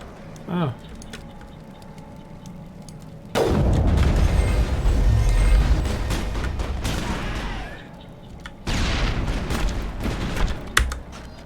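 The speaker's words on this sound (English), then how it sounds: "Throw a grenade at the husk's feet now." Mass Effect video game combat on Eden Prime, with sudden loud grenade blasts and rumbling bursts of gunfire and debris, separated by quieter gaps with a brief voice early on.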